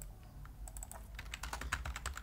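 Rapid typing on a computer keyboard, quiet and close, with a burst of irregular key clicks that grows busier toward the end over a low background hum and no speech.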